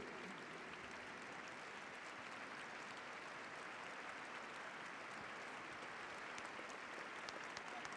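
A large audience in the Grand Palais applauds show-jumping riders at an equestrian competition, sustained steady clapping from a big hall crowd, even and continuous but fairly faint and distant.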